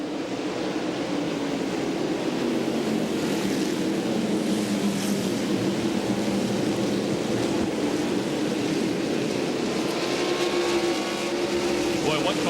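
NASCAR stock cars race at Myrtle Beach Speedway, a steady, loud engine roar with droning tones that rise and fall as the pack circles, continuous across the clip.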